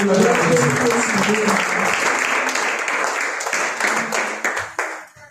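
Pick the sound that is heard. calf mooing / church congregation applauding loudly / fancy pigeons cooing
church congregation applauding loudly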